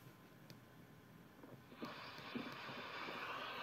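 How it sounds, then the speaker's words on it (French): Wind buffeting the microphone of a Reolink Argus 3 Pro security camera outdoors, a steady rushing hiss that swells louder and brighter after the first couple of seconds, with occasional gusty bumps. "là on entend le vent"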